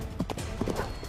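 Cartoon horses' hooves clip-clop during a race, with a brief run of quick, rhythmic hoofbeats over a dense, constant background.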